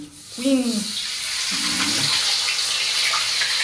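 Tap water runs steadily in a home kitchen while stir-fried papaya flowers and water spinach are prepared, a broad hiss lasting throughout with brief voices speaking over it near the start.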